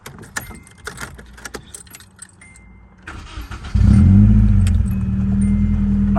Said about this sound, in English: let's see if it starts better this time.